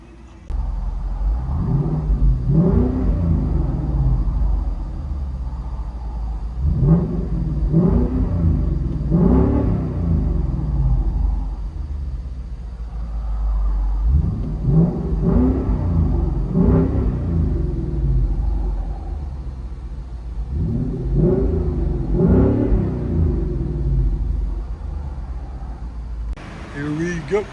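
A 2019 Ford Mustang GT convertible with a 5.0L V8, custom Corsa Xtreme catback and Vibrant resonators, heard from inside the cabin: deep exhaust rumble swelling through repeated rev pulls and acceleration bursts, loud and close.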